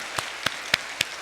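In a church sanctuary during a Sunday worship service, four slow, evenly spaced claps ring out clearly over a quiet hall background.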